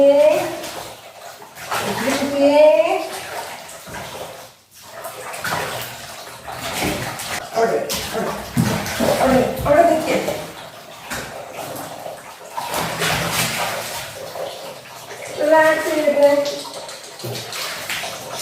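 Water pours and splashes steadily while a pet cat is bathed at home, with a person talking and calling throughout over the running water.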